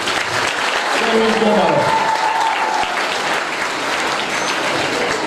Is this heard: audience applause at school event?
yes